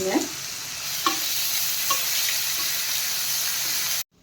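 Chopped onions with curry leaves and salt sautéing for an onion curry, steady sizzling in the pan with a few light spoon taps as they are stirred, ending abruptly in silence.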